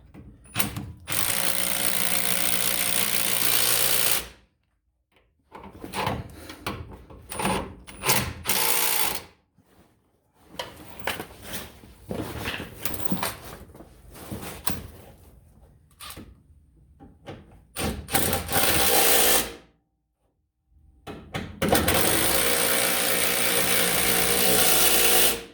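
Impact wrench fitting Rough Country sway bar quick disconnects on a Jeep XJ, heard as several loud bursts of rattling hammering, each lasting a few seconds, separated by short pauses and quieter clanking of tools.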